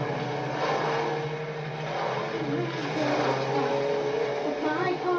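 A car in the video game Fortnite drives with a steady engine drone and shifting whine over a busy game soundscape, loud and continuous throughout, with a person talking at times.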